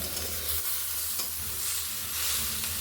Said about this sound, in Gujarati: 2 નંગ મોટા ટામેટાં લીધા છે, એ એડ કરી અને એને પણ હવે હું શેકી લઈશ